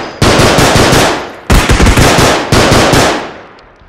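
Automatic gunfire in a first-person shooter game sounds in three loud, close bursts, each a rapid string of shots lasting about a second, separated by short gaps and ending in a fading tail.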